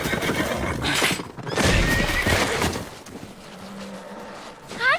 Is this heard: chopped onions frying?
no